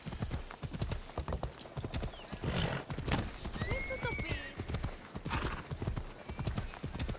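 Horse hooves clip-clop in a steady rhythm with a whinny, from the Ancient Greek world of the video game Assassin's Creed Odyssey, close and continuous over game ambience and faint background voice.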